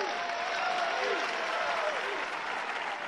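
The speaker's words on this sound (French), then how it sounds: "Et le public applaudit." Wrestling show crowd applauding at a catch event, a steady wash of clapping from a fairly distant audience, even and sustained for a few seconds.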